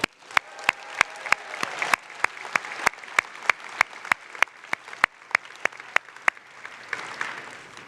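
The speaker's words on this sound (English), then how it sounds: "let's give our graduates a round of applause" An audience claps for graduates at a Match Day 2023 ceremony, sharp separate hand claps in an uneven rhythm that thin out toward the end, moderately close in a room.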